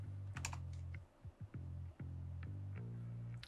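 Typing on a computer keyboard to search for an AMD chipset driver after a PC build, with a run of close, crisp keystrokes in uneven bursts and brief pauses.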